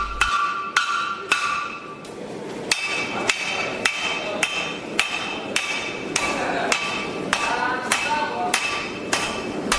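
Steady, ringing blows of a 1.8 kg cross-peen hammer forging metal on an anvil, about a dozen strikes at a regular rhythm, each with a sharp bright clang over a faint background.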